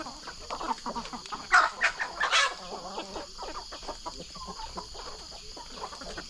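Several chickens cluck nearby in short, irregular bursts, with a few louder squawks early on over a quiet farmyard background.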